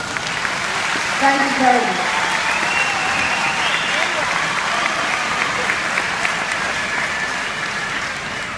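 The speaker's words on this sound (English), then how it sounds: "Now let's give them a round of applause." Sustained round of applause from a graduation audience, dense clapping filling the whole stretch at steady loudness, with a brief spoken thank-you near the start.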